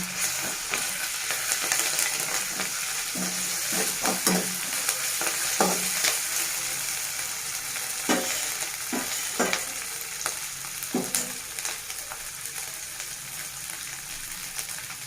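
Onions frying with ginger garlic paste in a pan, a continuous close hiss with scattered clinks and scrapes of a spoon stirring, some softer watery sputtering mixed in.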